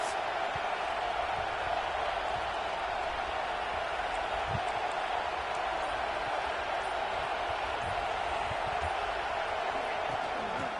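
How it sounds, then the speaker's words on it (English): Steady crowd roar filling the stadium of a college football video game during a big third-down defensive stand, a continuous broad wash of cheering that holds at one level throughout. "Big third down as the crowd gets behind this defense."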